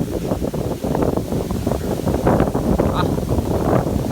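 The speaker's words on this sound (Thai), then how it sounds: "ลมฝนกำลังมาครับโอ้ยไม่น่ารอดครับ ลมแรงมากเลย" Strong wind ahead of a rainstorm roars and buffets the microphone in continuous loud gusts, with rustling underneath.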